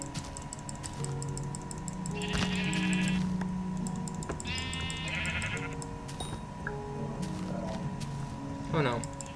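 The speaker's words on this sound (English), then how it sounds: "Give me your sheep." Two drawn-out sheep bleats from Minecraft, from a round of The Walls, stand out over soft background music, with computer-keyboard clicking and a little talk around them.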